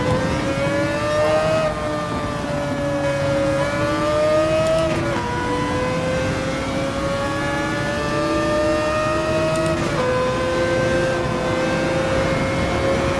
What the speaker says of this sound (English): One of the best sounding cars ever made. Right up there with your V10 F1 cars. It's a serious noise.